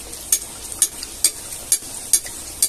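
Puri frying in hot oil in a kitchen, a soft continuous sizzle broken by regular sharp clicks of a utensil stirring and turning the dough, about once every half second, close and fairly quiet.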